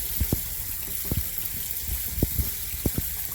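A strip of wallpaper soaking in water during a DIY stairway makeover, with soft scattered splashes and light sloshing at close range over a steady hiss.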